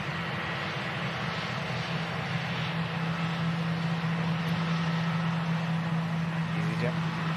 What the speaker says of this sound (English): EasyJet taxiing past.